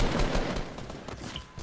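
Gunfire in the video game Fortnite, heard as a dense, rapid burst of shots that is loudest at first and then thins out into scattered reports.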